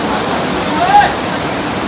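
Fast floodwater rushes over a road in a flood-hit village in Gurdaspur, a steady broadband roar of water heard close and continuous throughout, with a faint whistle midway.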